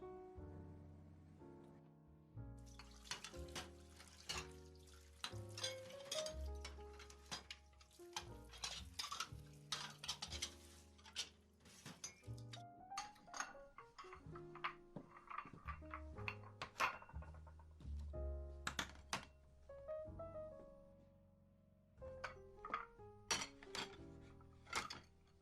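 Cups and dishes are washed and handled behind a bar: scattered clinks, taps and knocks of glass and ceramic, close and quiet, with faint water splashes between irregular clattering.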